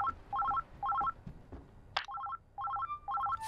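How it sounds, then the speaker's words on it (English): A telephone rings in the video game Oxenfree II: repeated trilling electronic ring bursts in a steady pattern, with a brief noisy interruption midway before the ringing resumes. "Phone ringing?"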